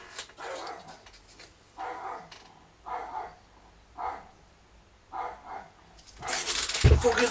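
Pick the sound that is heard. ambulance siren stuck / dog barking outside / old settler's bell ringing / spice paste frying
dog barking outside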